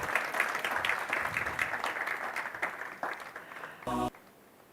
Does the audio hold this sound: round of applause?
yes